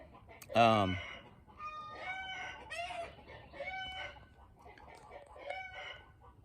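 Chickens cluck and squawk close by, opening with a loud rooster-like call followed by a string of scattered hen clucks and cackles.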